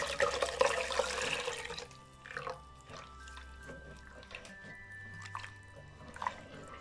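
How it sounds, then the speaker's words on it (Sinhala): Milk is poured into kurakkan (finger millet) flour for porridge and mixed in, giving a close, faint liquid trickle and dripping with light stirring sounds. "දැන් කිරි ටික ඔක්කොම දාලා හොඳට කලවම් කරගන්න ඕනේ"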